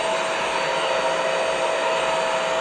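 A Bissell Crosswave wet-dry vacuum cleaner runs on grout with a steady, loud motor whine and airy hiss, unbroken throughout.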